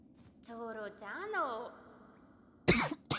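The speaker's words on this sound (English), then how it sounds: "Sorry, I just coughed directly into my microphone." A person coughs sharply right into a microphone, a loud, close burst followed by a shorter second one, after a stretch of voiced vocal sounds.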